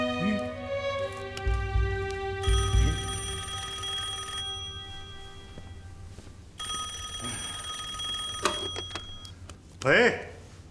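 An old-fashioned telephone bell rings in a wartime drama scene, bright metallic trills coming in a couple of bursts with pauses between them, alongside voices in the scene.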